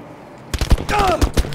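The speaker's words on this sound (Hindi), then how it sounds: "ये बहुत दूर से गोलियां आ रही हैं।" Gunfire from distant enemy snipers in Battlefield 5, several sharp shots and bursts in quick succession after a brief quiet lead-in, with a whistling streak mid-burst.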